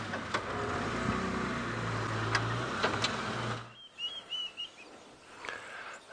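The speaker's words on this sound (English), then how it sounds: "I have indeed got a bird, James, a beautiful bird that we've just spotted." A bird calls during an evening safari drive, a few short whistled notes that are faint and distant, heard after a steady vehicle engine hum fades out.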